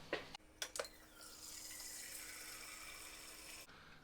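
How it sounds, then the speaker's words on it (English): Water from a Samsung refrigerator's door dispenser pours steadily into a container after a few sharp clicks, a close, continuous stream that stops abruptly near the end. "we're going to fill it up with the refrigerator"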